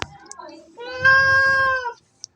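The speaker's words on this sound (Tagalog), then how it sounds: "Bigla lumapit itong itim na pusa." A black cat gives a single clear, drawn-out meow up close, preceded by a few soft chirping sounds and followed by a brief click.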